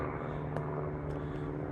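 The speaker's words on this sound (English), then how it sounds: "This wouldn't be a video without a plane flying over real low." A low-flying airplane passing over a wooded state park, a steady broad engine drone filling the short stretch with no talking.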